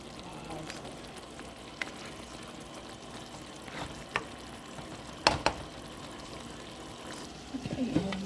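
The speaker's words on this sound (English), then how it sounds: "so I let this simmer about 15 to 20 minutes" Taco spaghetti meat sauce simmers in a single pot. A low, steady bubbling sizzle continues throughout, broken by a few faint clinks and one sharper knock.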